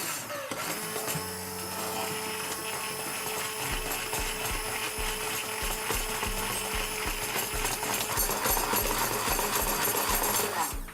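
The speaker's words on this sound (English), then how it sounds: "Mix a little with blender." An electric blender whirs continuously while mixing a wheat, oil and rock salt soup mixture, a loud steady mechanical grinding drone with a rattling pulse underneath, heard close throughout.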